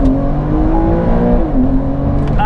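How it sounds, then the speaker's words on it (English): A sports car with a 3-litre, 450-horsepower flat-six launches hard under launch control, a loud, close engine roar climbing steadily in pitch through the gears, with a brief shift dip midway. "Absolute rocket ship the way this car takes off"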